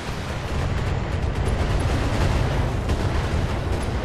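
Indirect-fire explosions from the BattleTech video game form a continuous, loud, rumbling roar of blasts. It stays steady and dense throughout, with no clear separate impacts.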